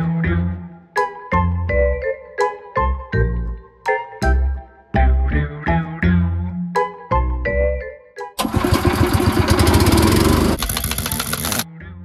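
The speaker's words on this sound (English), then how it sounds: "strike your compressor back up, mate" An air compressor in a truck tyre and hub workshop kicks on near the end, a loud, steady rattling roar after a run of ringing metallic clanks and taps.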